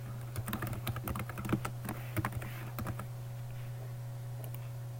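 Typing a column name on a computer keyboard, a quick burst of crisp key clicks over a steady electrical hum, then quiet.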